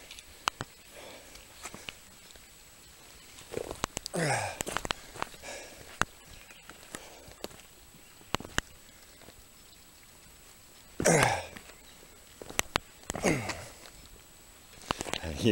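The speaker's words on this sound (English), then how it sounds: "You hear me grunting?" A solo hiker on the Butterfield Hiking Trail breathes heavily and grunts in a few short bursts. Faint footsteps and scattered rain taps sit underneath.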